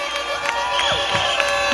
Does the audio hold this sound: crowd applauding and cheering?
yes